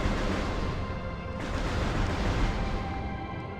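Constant roaring barrage of missile fire and explosions in a video game, dense and loud throughout with no pauses.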